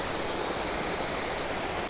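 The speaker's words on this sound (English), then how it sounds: "But I guess supposedly the water's flowing a lot more than this normally." Water flowing through the spillway of an abandoned powerhouse, a steady, even rush of broad hissing noise that holds without a break, with no voices.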